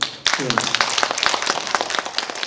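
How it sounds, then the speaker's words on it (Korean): Audience applause for the speakers at a scholarly seminar on Jungbong Jo Heon in Okcheon, a dense wash of many hands clapping that begins abruptly and holds steady, with a brief voice near the start. "격려 박수 한번 주시죠"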